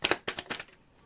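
Tarot cards being shuffled in a few quick riffling bursts, close and soft, fading into quiet after about half a second.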